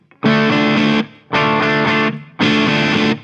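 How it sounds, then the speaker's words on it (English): Three sustained electric guitar chords through a Boss DS-1 distortion pedal, each ringing about a second with short gaps between, loud and thick with fuzz. "Okay, let's start introducing distortion."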